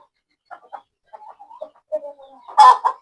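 Roosters cluck softly in scattered short bursts, building to a louder squawk near the end, heard close with quiet gaps between.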